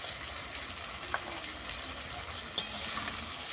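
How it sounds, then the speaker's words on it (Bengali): Ginger, garlic and cumin paste fries with potatoes in a pan over a clay stove, a steady close sizzle with a couple of faint clicks of a utensil against the pan. "আদা রসুন জিরাটা ভালো করে কষিয়ে নেবো"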